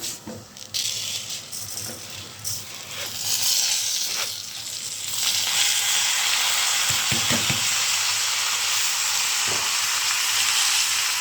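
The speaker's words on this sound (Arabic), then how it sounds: "كده الشعريه جاهزه معانا هنحط الرز." Rice tipped into frying vermicelli and stirred in a pot for Egyptian koshari gives a steady, close sizzle that builds louder, broken by scraping stirs and a few sharp clinks, with no talking.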